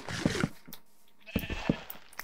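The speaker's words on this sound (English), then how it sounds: "Where are the fucking sheeps?" Sheep in Minecraft bleat twice in quick succession, the short wavering baas clear and close with a brief pause between them.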